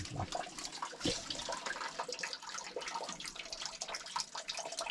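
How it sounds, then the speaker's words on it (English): Water flows from a spring head sheltered under a small hut at a historic homestead, a steady close trickle and splash running throughout with no talk. "Oh, it's definitely a spring head."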